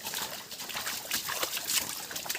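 Water trickling along a small canal deep in a forest, a steady broadband wash of flowing water with a few faint bird calls, close and continuous.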